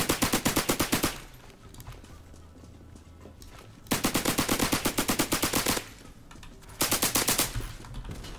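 A suppressed Tommy gun firing in the Roblox game Criminality, three rapid automatic bursts of muffled shots, each lasting one to two seconds, separated by short pauses.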